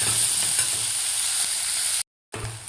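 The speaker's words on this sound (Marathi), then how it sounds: "तर व्यवस्थित आपल्याला 2 मिनटं हे कांदा परतून घ्यायचा आहे" Chopped onions sautéing and being stirred in a pan while cooking a wild vegetable bhaji, a steady close sizzle that cuts out briefly near the end and then resumes.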